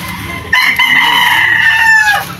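A straight Golden Boy rooster crows loudly and close at a backyard poultry yard, one long drawn-out crow rising and holding, with faint clucking before it.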